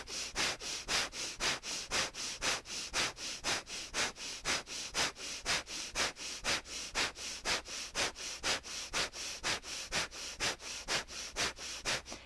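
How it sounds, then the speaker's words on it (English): Rapid rhythmic nasal breathing during a Kundalini-style yoga session, steady forceful sniff-like pulses repeating about twice per second for the whole stretch, close and even in loudness, with no talking. "then we'll take breath of fire"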